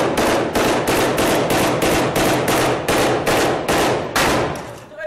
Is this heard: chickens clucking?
no